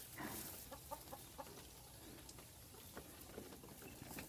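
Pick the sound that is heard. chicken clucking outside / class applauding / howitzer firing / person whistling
chicken clucking outside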